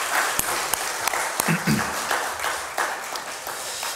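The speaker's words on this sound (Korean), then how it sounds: "우리 격려로 박수 한번 하도록 하겠습니다" A church congregation at a Sunday morning service applauds, a steady patter of many hands with a few sharper claps standing out, while a voice murmurs briefly underneath.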